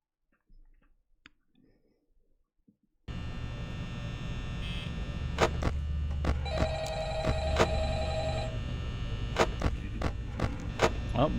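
A telephone rings in the Five Nights at Freddy's video game, a loud repeated electronic ring over a steady hum, starting abruptly after a few quiet seconds and carrying on to the end.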